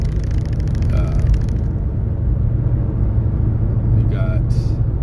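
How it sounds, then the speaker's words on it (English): A car drives through light city traffic in Killeen, Texas, a low steady road rumble heard from inside the cabin while someone talks over it. "we're driving through Colleen right now"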